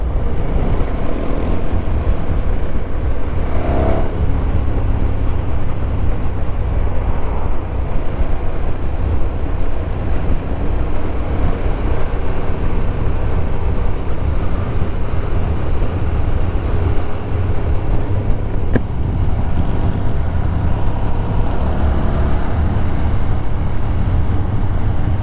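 A KTM 1290 Super Duke R motorcycle engine while riding on the road in third gear around 5,000 rpm, a loud, continuous roar mixed with wind rush that stays steady and close for the whole stretch.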